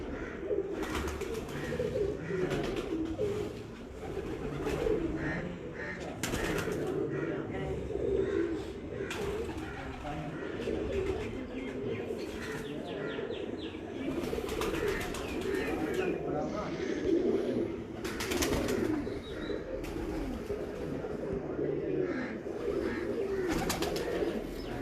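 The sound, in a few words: breeder pigeons cooing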